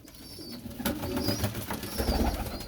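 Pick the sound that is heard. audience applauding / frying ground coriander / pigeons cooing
pigeons cooing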